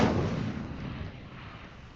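Incendio fire spell cast in Hogwarts Legacy: a single sharp, booming burst at the start that decays into a fading roar over about two seconds, with no voices.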